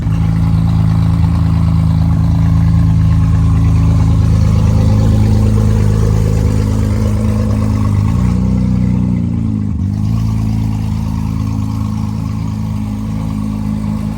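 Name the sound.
loud car engine without exhaust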